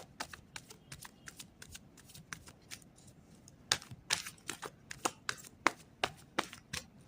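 Tarot cards being shuffled during a card reading: a steady run of quick, crisp riffles and snapping card bursts, close and fairly loud, growing sharper and more spaced in the second half, with no talking.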